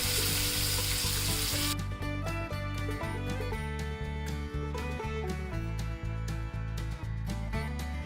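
Garlic and onion hit hot oil already popping with cumin and mustard seeds in a pan for kurdai bhaji, a loud sizzle that settles into steady, close frying with crackles and spoon scrapes.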